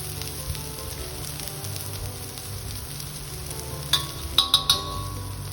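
Vegetable stir fry sizzling steadily in a hot pan while being stirred, with a few sharp clinks of the utensil against the pan near the end; no talking.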